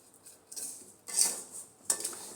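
A utensil scrapes and clinks against a pan while vermicelli (semai) is stirred and dry-fried for zarda, in a few uneven strokes with short pauses and no talking.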